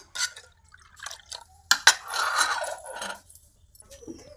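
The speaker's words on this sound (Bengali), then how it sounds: "আমি এর মধ্যে আরেক বাটি জল দিয়ে দিচ্ছি" Water poured into a bowl of rice flour batter in a home kitchen, heard as scattered drips and a short burst of liquid splashing near the middle, close and moderately quiet, with no talk.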